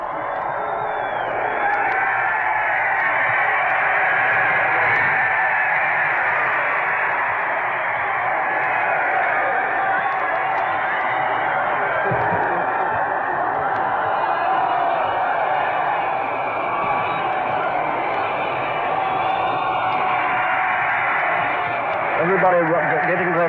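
A large crowd cheering along the route of the 1937 coronation procession of King George VI: a steady, distant roar heard through thin, band-limited radio sound while a commentator speaks over it.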